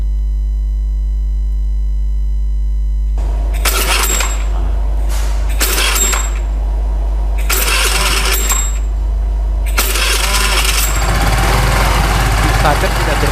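Motorcycle electric starter system on a training setup, a steady engine or motor hum running throughout with four bursts of harsh mechanical cranking noise, the last one longer.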